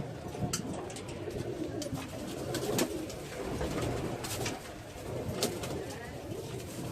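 Pigeons cooing softly amid a constant background rustle and murmur, several soft calls repeating irregularly, not very close.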